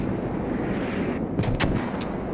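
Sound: mortar fire in the video game Squad

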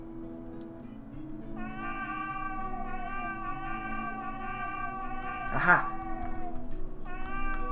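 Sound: cat meowing in video game Blades of Heaven

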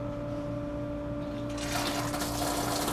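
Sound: coolant flowing on Tormach 1100MX CNC mill

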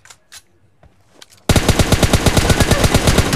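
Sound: gunfire in a video game

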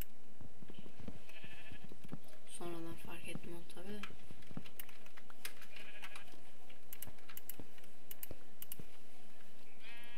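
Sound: sheep bleating in Minecraft video game

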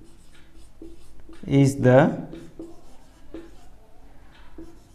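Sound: writing on a board during a physics lesson

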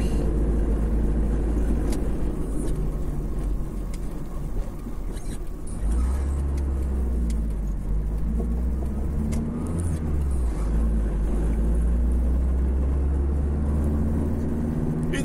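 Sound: car driving up a street

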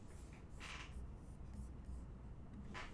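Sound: pen drawing a disk diagram on paper

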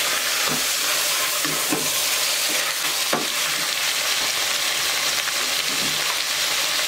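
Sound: garlic clove frying and being stirred in pan

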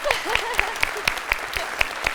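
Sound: applause on children's quiz show

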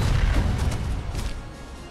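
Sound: cannons firing in Castle Crashers video game

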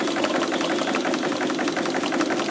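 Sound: triple expansion model steam engine running unevenly

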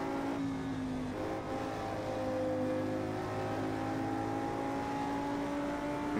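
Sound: Audi R8 road car engine in Project CARS 2 video game

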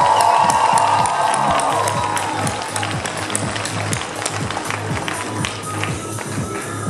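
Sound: ovation from the audience

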